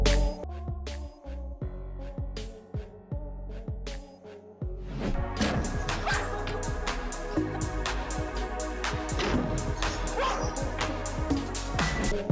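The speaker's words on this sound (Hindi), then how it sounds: "यहाँ इस लड़की का कुत्ता ही इसको गिराकर भाग जाता है।" A dog barks and yips in a few short bursts, later joined by louder, busy background music that partly buries the barking.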